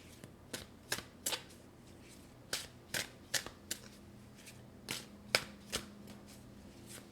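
Tarot cards being shuffled and drawn, giving a run of sharp, papery snaps and riffles at an irregular pace, fairly close and clear over a quiet room, with no talking.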